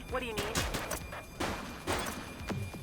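Gunfire in the video game The Precinct, a police shootout with a revolver against heavily armed suspects: several sharp, loud shots fire in quick succession, with fainter voices in the background.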